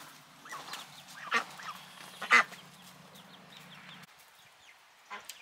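Fowl in a backyard coop for chicks honk and squawk in scattered calls, a couple of them louder and nearer, over a quiet outdoor background with no talking.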